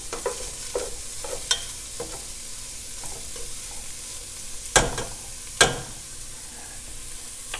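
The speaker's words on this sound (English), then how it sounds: "in the garlic and ginger. And we just let this cook down for just about a minute as it gets aromatic." Garlic and ginger cook in a soup pot with a soft, steady sizzle, broken by a few scraping stirs and two sharp clanks of a utensil.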